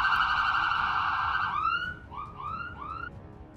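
An ambulance siren in the Roblox video game wails with a steady tone and then turns into rising whoops, loud and close, with no talk.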